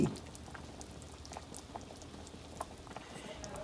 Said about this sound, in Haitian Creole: Je ajouté de l'eau pour le bouillir.